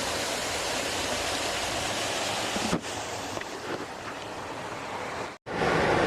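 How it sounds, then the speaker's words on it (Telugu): Continuous rushing water from a small waterfall, a steady broadband roar nearby with no voices, briefly cutting out near the end. "ఇక్కడ ఒక చిన్న వాటర్ ఫాల్స్ని చూడండి"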